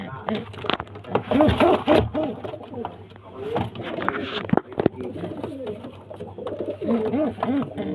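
Fulshira pigeons coo repeatedly at close range, soft throaty rolling calls overlapping one another, while someone talks over them for much of the time.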